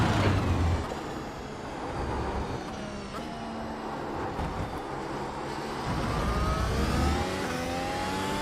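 A racing car engine in the iRacing game at MotorLand Aragón, droning and revving loudly with rising and falling pitch as gears shift, continuous and close.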